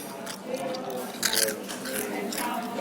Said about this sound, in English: this is me eating a crisp